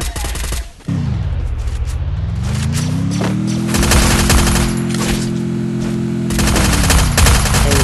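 Loud rapid gunfire bursts in a shooting video game, with dense automatic fire and a sweeping engine-like drone underneath, continuing through most of the stretch.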